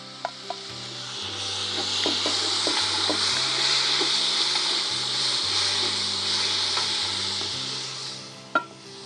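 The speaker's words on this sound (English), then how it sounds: "Once you've browned all of your meat off, add your mushrooms and onions and stuff back in." Mushrooms and onions are stirred back into browned venison in a frying pan, giving a steady close sizzle with scattered scrapes and clicks of the utensil and a sharper knock near the end, all beneath a low musical background.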